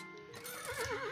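A horse whinnies in the video game Meadows Ranch, a short rising then wavering neigh over faint clip-clop, heard alone at close range.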